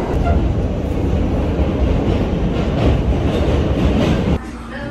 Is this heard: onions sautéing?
no